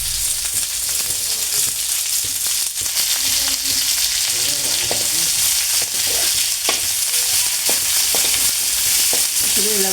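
Onions, green chilies, curry leaves and mustard seeds sizzle loudly in hot oil, a dense continuous frying hiss with occasional scraping stirs and small pops, close up and without talk.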